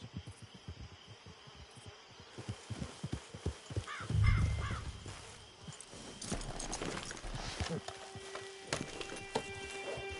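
Horse hooves clip-clop steadily across ground in Red Dead Redemption 2, a quick regular rhythm of close hoof strikes that runs alongside a brief low rumble and faint background calls.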